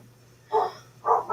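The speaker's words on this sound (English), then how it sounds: "It's my dogs." Two short, loud dog barks about half a second apart, close by, against a faint steady background hum, with no talking.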